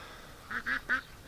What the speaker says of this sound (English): Free-range duck.